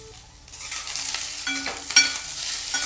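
Tomatoes and onion with ginger pieces sautéed in a pan for a Konkani-style crab curry, a loud steady sizzle with stirring scrapes of a spoon against the pan, close up and without talk.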